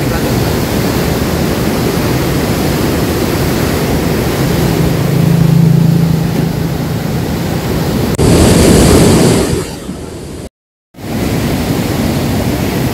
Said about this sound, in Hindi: तो ये आप देख रहे हैं किस रफ्तार के साथ यहाँ से पानी गुजर रहा है।